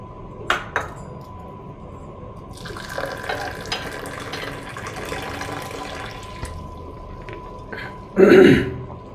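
South Indian filter coffee pours and splashes between cups in short bursts, with a louder splash near the end; quiet background otherwise.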